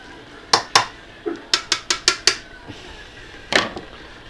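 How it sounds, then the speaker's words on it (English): Quick stirring of hops in a home brewing kettle: a burst of sharp metallic clinks and taps, about eight close, rapid knocks with short gaps, then one more clatter, no talking. "instantly just give them a quick stirring so they're all in there"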